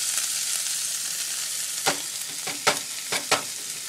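Frozen cooked shrimp, thawed and strained but still watery, sizzling steadily in a pan, with a few sharp clattering knocks near the end as it is dumped in and shaken, no talking.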